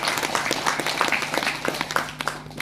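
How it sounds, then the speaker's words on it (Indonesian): Applause from an audience at a church working meeting in Walak, steady scattered clapping filling the room at moderate volume with no talk over it. "Tepuk tangan, kita punya profesional ya."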